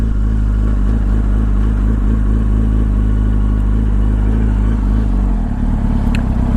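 A Yamaha R1 racing motorcycle runs loud and close at sustained high revs, its engine drone holding steady before a sudden pitch drop near the end as a quick-shift changes gear without the throttle closing.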